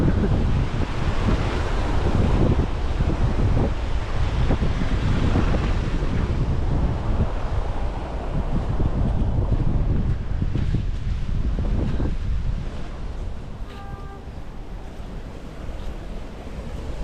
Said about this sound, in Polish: Najgorszy jest wiatr. Wiatr wieje teraz.